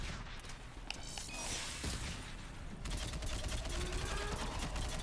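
Assault rifle fire in Mass Effect 3 multiplayer: a dense, continuous fusillade of rapid shots with sharp impacts and whooshes, steady and fairly loud throughout.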